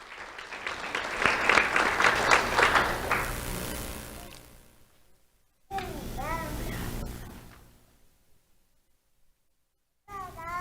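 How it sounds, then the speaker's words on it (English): Applause from an audience at a youth awards ceremony, a loud dense burst of clapping that fades out, followed by shorter bursts after a pause. "Let's have a round of applause for Jonathan Del Sol Cruz."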